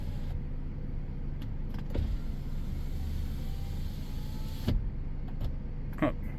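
A car's faulty power window motor hums steadily as the glass travels, with faint clicks and a soft thunk near the end, heard close inside the car.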